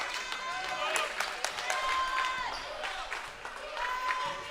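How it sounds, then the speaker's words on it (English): A small crowd grows louder at a high school boys basketball district semifinal, Nease vs. Oakleaf, with shoe squeaks and a broad murmur of noise under a commentator's steady talk. "For a small crowd, it's starting to get loud in here."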